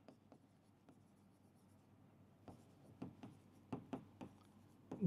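Chalk or marker writing on a board during a chemistry lecture on polymers: quiet, scattered scratches and taps that grow louder and quicker toward the end, close by with no speech.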